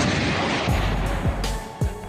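An NLAW anti-tank missile fires in close-range urban combat, heard as several sharp, heavy booms about half a second apart over a loud, continuous roar of battle noise.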